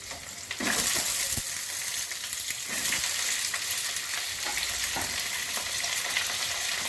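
Flat beans sizzle and fry in a hot pan for a spinach curry, a steady loud hiss with occasional stirring scrapes, close and without talk.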